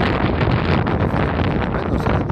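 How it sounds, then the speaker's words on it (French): Strong gusts of wind buffet the microphone in an open field, a loud continuous roaring rumble with no talk. "on se reprend donc sous des rafales de vent, donc sur le champ"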